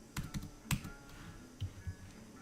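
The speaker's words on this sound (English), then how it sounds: "I'm typing with one finger." Slow one-finger typing on a computer keyboard, a handful of separate, unhurried key taps in small clusters, close and faint against a quiet room.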